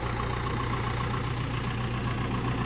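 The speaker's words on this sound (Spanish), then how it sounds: "Pues con el cacho tractor." A tractor engine idles steadily close by, with a continuous low rumble and a throbbing pulse that holds even throughout the short stretch and no one speaking over it.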